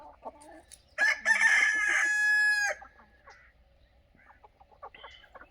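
A desi (native free-range) rooster crows loudly once, long and drawn out, with scattered desi hen clucks and soft farmyard noises before and after on a poultry farm.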